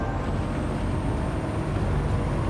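A race car in the Euro Clubman Cup 600 at Deep Forest Raceway in a racing video game holds a steady, loud engine drone with a thin high whine while engine braking through downshifts.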